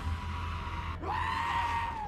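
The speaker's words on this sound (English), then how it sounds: "besides the screaming goats of course." A screaming goat from the film Thor: Love and Thunder gives a single loud, drawn-out bleating scream that rises sharply and then holds steady at close range over a constant low background hum.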